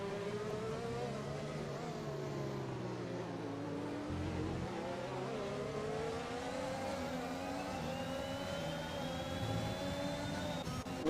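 Formula 1 cars in the F1 2021 video game accelerate at a safety car restart, engines whining and rising in pitch as they pull away. A high tone climbs steadily near the end.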